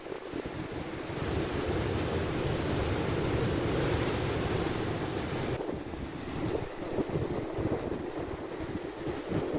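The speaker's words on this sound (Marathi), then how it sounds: "समुद्राच्या उधाणलेल्या लाटा ज्या आहेत त्या किनाऱ्याला येऊन धडकतायत." Rough, swollen sea waves pound the Ratnagiri shore during heavy monsoon rain, a continuous loud roar of surf mixed with gusting wind buffeting the microphone, with no voices.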